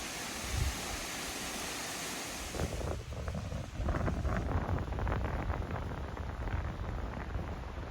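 Waterfall along the Appalachian Trail near Elk River: a steady broadband rush of falling water, even and continuous, with brief wind buffeting on the microphone.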